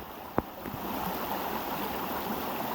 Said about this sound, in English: Looking up there, we have more water coming down. Pretty cool waterfall.